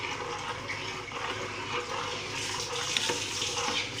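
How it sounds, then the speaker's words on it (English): Sweetcorn soup with mixed vegetables stirred steadily in a pot, a soft continuous swishing and bubbling, close and fairly quiet, without talk. "I'll stir it. It's me stirring."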